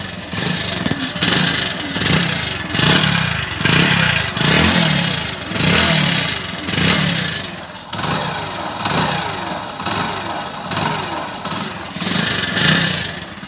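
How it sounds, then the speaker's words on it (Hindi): A motorcycle engine revs in repeated bursts while the mesh inside its silencer rattles, loud and close, each throttle blip rising and falling in a steady rhythm. "इस गाड़ी में जब मैं रेस दे रहा हूं तो इसकी साइलेंसर के अंदर जाली होती है, वो आवाज कर रही है"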